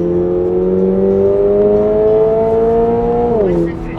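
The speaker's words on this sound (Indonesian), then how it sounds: "Gue coba dulu 0 ke 100 mode track." Subaru BRZ sports car accelerating hard from 0 to 100 km/h in track mode, engine drone rising steadily in pitch, then dipping at a gearshift near the end; loud and close, heard from inside the cabin.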